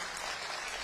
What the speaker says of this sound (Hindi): वाह, एक मर्तबा आप लोग जोरदार तालियां बजाएं।